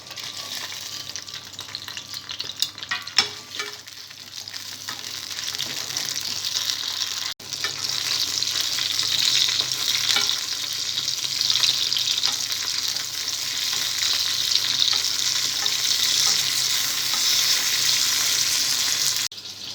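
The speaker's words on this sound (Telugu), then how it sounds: "ఆయిల్ వేడైన తర్వాత పచ్చిమిరపకాయలు, ఎండుమిర్చి వేసి బాగా ఫ్రై చేసుకోవాలి." Green chilies and dried red chilies fry in hot oil in a pan, a steady loud sizzle with stirring scrapes early on, then a sustained crackling hiss that continues without talk.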